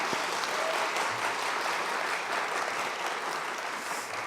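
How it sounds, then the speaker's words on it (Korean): A church congregation at a Sunday worship service applauds, a dense, even burst of many hands clapping that fills the room and holds steady throughout with no talk over it. "우리도 우리 성도님들 위해서 박수 한번 하도록 하겠습니다."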